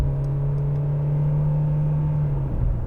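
2015 Mercedes-Benz C-Class 1.6 car accelerating from inside the cabin, a steady low engine drone with a rising whir, loud and continuous throughout.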